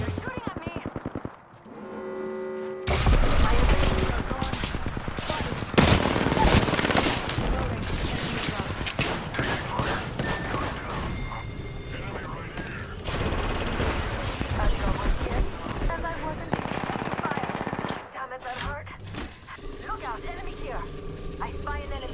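Rapid automatic gunfire in the battle royale game Apex Legends, dense bursts of shots running almost continuously and loud for most of the stretch, with players talking over the shooting.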